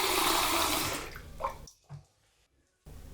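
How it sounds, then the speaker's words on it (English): Tap water runs into a 2-litre jug, a loud broad rushing gush that tapers off after about a second, followed by a couple of small splashes and near silence. "Step 1 is to half fill a 2-litre jug of water."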